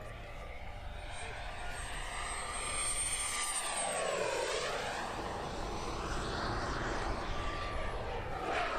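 An expensive model jet aircraft flies past at an outdoor event, its engine whine rising and then sweeping down in pitch as it passes close by, with a steady roar and crowd noise underneath.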